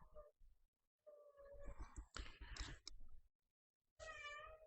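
A cat meows repeatedly in a room during a look at electric-car listings such as a Tesla Model S and Model 3, its loud, drawn-out cries coming in several bursts with short pauses between them.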